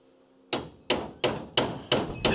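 A hammer taps a part into place on an old Dodge Charger crew cab restoration: six sharp, evenly spaced metallic knocks, close and loud, each ringing briefly, with no voices.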